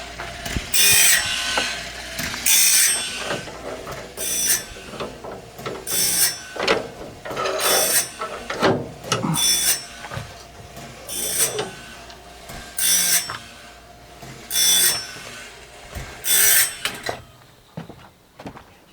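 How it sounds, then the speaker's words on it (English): Automatic blade sharpener grinding a sawmill band blade as it indexes around, with repeated bursts of grinding and ratcheting clicks of the advancing mechanism in a steady rhythm, close and fairly loud, with no talking. "once this blade goes all the way around, this will hit these 2 switches and turn it off"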